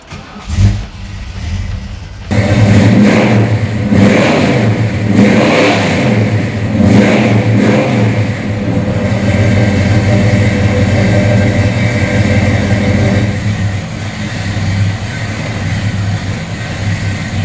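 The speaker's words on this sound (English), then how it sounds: "How about I start it for you so you can hear what it sounds like" A 1970 Ford Torino with a 429 Cobra Jet V8 cranks and fires up loudly nearby, revs in several strong surges, then settles into a steady, deep rumbling idle.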